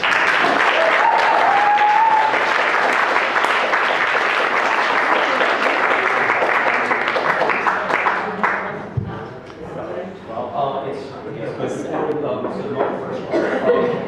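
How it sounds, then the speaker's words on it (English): An audience applauds a speaker at a talk on tabletop role-playing games with loud, sustained clapping that fades after about eight seconds, followed by scattered chuckles, a cough and quiet murmuring. "So just a very big round of applause for Vivek."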